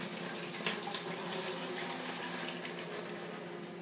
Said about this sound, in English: now what we're going to do is empty some of the water out without the fish